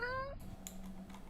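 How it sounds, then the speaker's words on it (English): A house cat lets out a single short meow at the very start, followed by faint clicking and quiet room sound. "Oh, it's the meow. That is quite a sound."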